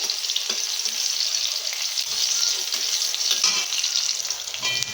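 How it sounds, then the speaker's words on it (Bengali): Okra frying in white oil with salt, a continuous bright sizzle with occasional stirring scrapes and soft spatters, close and steady throughout. "ঢ্যাঁড়সটা ভাজা হয়ে গেছে"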